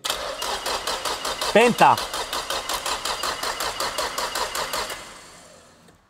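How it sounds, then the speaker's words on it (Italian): A Nissan Silvia engine, just started for the first time, idles with a steady, rhythmic chugging, a voice speaks briefly in Italian over it, and then the motor winds down and fades away. "fai girare il motore finché non si spegne la spia dell'olio"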